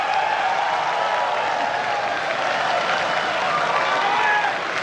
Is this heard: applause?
yes